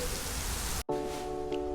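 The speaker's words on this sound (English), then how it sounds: "it's really raining. Quite heavy, actually" Steady heavy rain hisses loudly, broken briefly by a sudden cut, then continues with a faint humming tone underneath.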